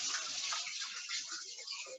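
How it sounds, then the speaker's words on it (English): Tap water runs steadily as hands are washed under it in a kitchen during pizza making, a close hissing splash with shifting gurgles throughout. "Just wash my hands again."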